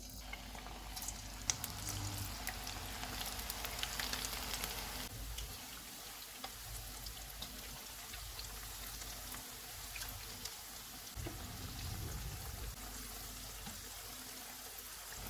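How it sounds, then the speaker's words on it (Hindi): Aloo baingan pakoras bubble and crackle steadily in hot oil over a low-to-medium flame, a dense, continuous frying hiss heard close up with no voices. "अब हम इनको फ्राई कर लेते हैं। ऑयल को मैंने गर्म होने के लिए रखा हुआ था।"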